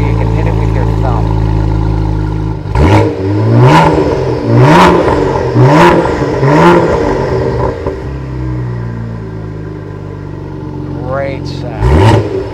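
Car exhaust in a louder mode after the steering-wheel B button is pressed, a rumbling idle broken by five sharp revs in a row, then a later rev. Someone talks over parts of it.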